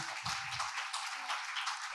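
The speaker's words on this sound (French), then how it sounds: "Barbara, revenez à nous. On vous applaudit." Audience applause at a French charity gala evening for farmers, a dense steady wash of clapping from a crowd filling the whole stretch at moderate level.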